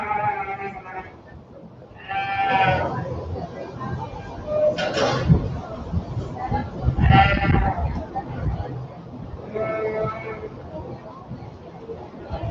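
Blackface sheep bleat repeatedly at a livestock show ring, loud and fairly close in several separate calls spread over a steady bustle of background voices and hall noise.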